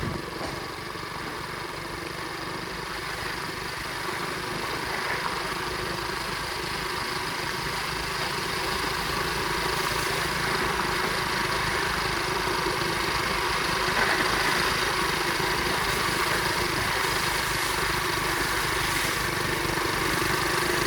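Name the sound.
2004 Flywing pit bike engine idling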